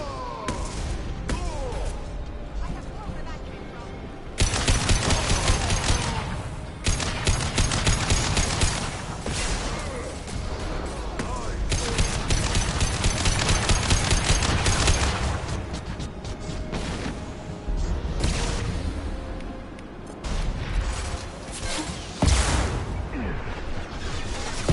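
A firefight in the video game Mass Effect 2: sustained volleys of gunfire and booming impacts pound almost continuously, loud and close, with brief lulls between bursts and scattered voices in the mix.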